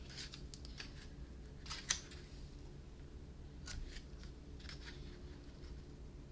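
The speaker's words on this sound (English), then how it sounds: "grab my ribbon cutting scissors, I would just trim off the ends a little bit." Ribbon-cutting scissors trim the ends of a ribbon on a handmade cracker and treat box favor, giving a few soft, close snips and light paper handling, with one sharper cut standing out against a quiet room.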